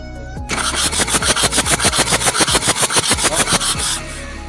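A diesel engine that will not run cranks on its starter, a loud rhythmic chugging of about twenty evenly spaced compression pulses over roughly three and a half seconds, then stopping.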